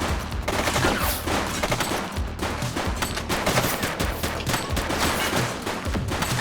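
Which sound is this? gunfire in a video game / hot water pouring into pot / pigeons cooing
gunfire in a video game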